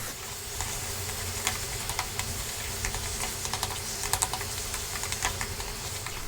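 Spicy mashed sweet potato sizzles in a pan over high heat while being stirred, a soft continuous fry with scattered crisp pops and scraping ticks.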